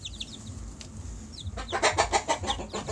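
A chicken on a small poultry farm clucks in a quick burst of rhythmic, close calls, preceded by a few quieter chirps from chicks and soft background movement.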